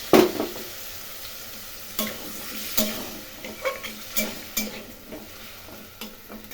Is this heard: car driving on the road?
no